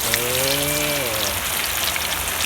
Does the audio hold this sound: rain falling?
yes